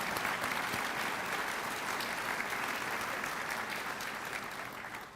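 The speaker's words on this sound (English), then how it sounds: "how about a round of applause for them?" An audience at an Air Force change of command ceremony applauds steadily, a dense wash of many hands clapping that stays full and even before easing slightly at the end.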